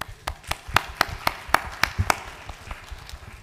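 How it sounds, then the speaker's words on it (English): Scattered hand claps from an audience at an AI cancer research symposium, about ten distinct sharp claps in an uneven rhythm before fading into quiet room noise. "so give yourselves a hand."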